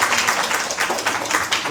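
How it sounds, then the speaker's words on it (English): Clapping from an audience at an evening devotional program in New Jersey, a brief dense burst of many hands close by, rising and falling in uneven pulses without speech. "clap for the host, Kamna Didi and"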